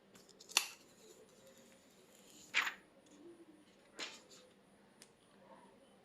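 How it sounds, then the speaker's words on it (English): Protective film peeled off a new Redmi Note 7 Pro phone during unboxing: a few short, crisp crackling rips at uneven intervals, close and fairly quiet against a still room. "So let me peel off the covers first."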